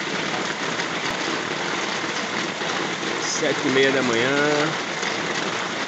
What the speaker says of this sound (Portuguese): Desde ontem à noite que chove. Uma chuvinha moderada.